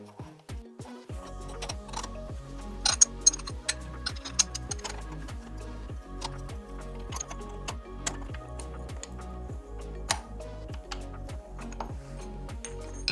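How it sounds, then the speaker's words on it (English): Reverse-threaded retention clip being spun onto a Shimano EP8 e-bike motor range extender, a rapid run of fine metallic ticks and ratchet-like clicks, close and steady throughout without speech. "It is reverse threaded, so you've got to spin it the opposite way to what you would think."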